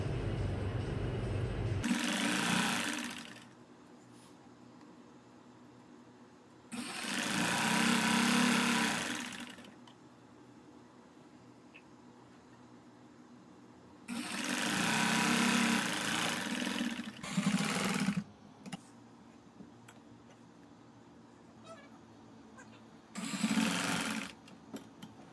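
A sewing machine runs in short bursts while stitching the side seam of a designer panel kurti, each close, buzzing run of a few seconds separated by quiet pauses, with no talking.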